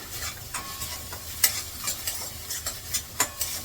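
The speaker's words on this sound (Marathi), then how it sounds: "हे सगळं असं मिक्स करून घेते हलवून घेते व्यवस्थित" Vegetables for a simple chana bhaji being stirred and tossed in a pan with a spatula, light scraping clicks over a soft sizzle, close up, steady and irregular, with no voices.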